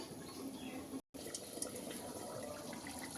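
Water poured into a cooking pot of meat curry on a gas stove, a steady soft splashing rush with one brief break, close and fairly quiet, no talking.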